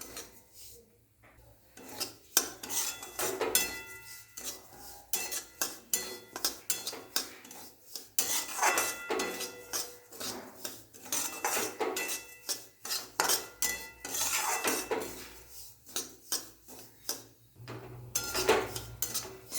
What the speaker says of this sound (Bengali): সুজিটা লাল লাল রং করে ভেজে নেব